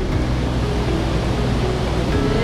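An underground river cascades through a cave in Sardinia's Supramonte, a steady broad rushing roar of water, loud and constant with no talk over it.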